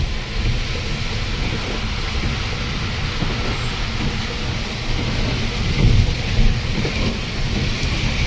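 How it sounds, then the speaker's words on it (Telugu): Heavy rain pounding steadily during a Volvo AC sleeper bus journey near Vijayawada, a loud, unbroken roar of downpour with low rumbling underneath that swells slightly around the middle; no one speaks. "విజయవాడలో చాలా ఎక్కువైపోయింది వాన మాత్రం, చాలా డేంజర్గా పడుతుంది."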